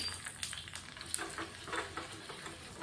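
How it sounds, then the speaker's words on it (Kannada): Mustard seeds, curry leaves and dried red chilli crackle in hot oil for a tempering, quick faint pops and sizzles scattered over a soft frying hiss, no one speaking. "ಸ್ವಲ್ಪ ಸಾಸಿವೆ ಹಾಕಿ ಸಾಸಿವೆ ಎಲ್ಲ ಚಟಪಟ ಅಂದಮೇಲೆ ಈಗ ನಾನು ಸ್ವಲ್ಪ ಕರಿಬೇವನ್ನ ಹಾಕ್ತಾಯಿದ್ದೀನಿ."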